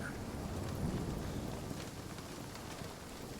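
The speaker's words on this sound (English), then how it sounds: "if it stops raining" Steady rain falling in a video game world, a dense continuous hiss with a soft low rumble underneath, even in level throughout and with no voices.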